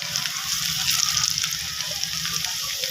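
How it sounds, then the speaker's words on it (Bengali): Cumin seeds, chopped garlic and chili dropped into hot oil for an aloo bhaji give a loud, dense, continuous crackling sizzle, close and steady for the whole stretch. "তেলটা আমার গরম হয়ে গেছে, এখানে আমি জিরাটা ছেড়ে দিলাম, একটু রসুন, লঙ্কা, রসুন কুচি"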